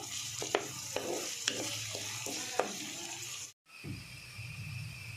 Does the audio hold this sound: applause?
no